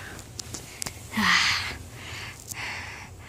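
A person sniffing to smell food: one long, loud sniff inhaled through the nose close to the mic, followed by a softer second sniff, with faint clicks around them and no speech.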